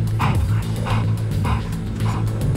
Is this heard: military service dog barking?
yes